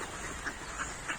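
Ducks give three short, faint quacks spaced about a third of a second apart over quiet background noise.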